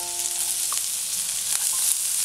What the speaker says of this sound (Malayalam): സവാള വാടി വരുന്നത് വരെ നമുക്കൊന്ന് എണ്ണയിലിട്ട് വഴറ്റിയെടുക്കണം